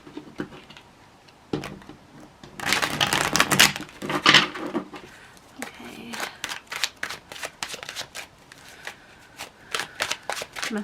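Tarot cards shuffled by hand, starting with a soft riffle, swelling into a loud dense flurry in the middle, then breaking into a rapid series of crisp individual card snaps and taps.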